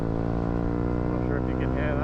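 KTM RC 125cc four-stroke motorcycle engine with an Akrapovic exhaust running with the baffles out, giving a steady, loud, close drone that holds a constant pitch throughout.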